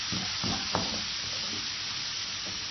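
Tadka for mash ki khari daal frying in a pan, a steady close sizzle and hiss with a few soft knocks of stirring.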